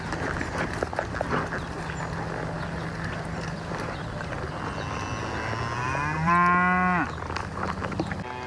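A cow on a farm gives one loud, drawn-out moo near the end, over a low steady background rumble and faint scuffing.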